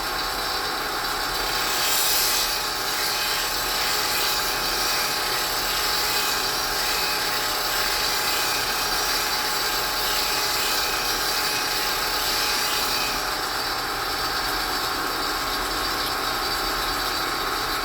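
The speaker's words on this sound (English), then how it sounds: "I'm grinding it pretty flat right now." A Stanley Bailey No. 7 plane iron's bevel is ground flat on a power grinder, a loud continuous whine and rasp that holds steady with no break.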